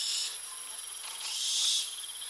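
Night insects such as crickets chirring in a quiet town after lights out, a dense continuous high trill that swells and fades slightly, steady and at moderate distance with no voices.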